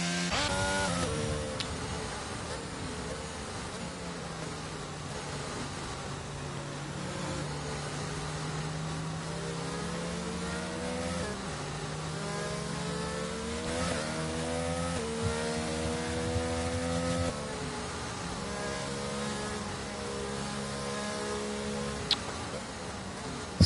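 Race car engines droning behind the Mercedes safety car at Saudi Arabia in the iRacing simulator, a sustained layered engine whine with rising and falling pitch sweeps as cars shift and accelerate, fairly faint and constant.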